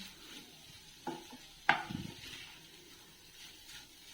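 A spatula stirs palak egg fry seasoned with pepper and cumin powder, producing soft scrapes over a quiet sizzle, with one sharper clank against the pan midway.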